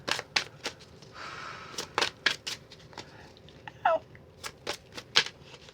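Oracle cards are shuffled in a series of crisp, close riffling bursts and flicks, separated by short quiet gaps.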